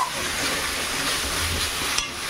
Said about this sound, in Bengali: এবার এর মধ্যে মশলাটা একটু কষিয়ে নিয়ে